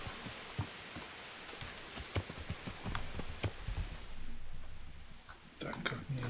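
Horse hooves clip-clop in irregular steps while riding in the video game Kingdom Come: Deliverance, with splashy thuds as if crossing water, fairly faint and sparse against a soft background.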